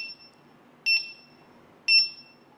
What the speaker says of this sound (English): Wait for the beeping to stop.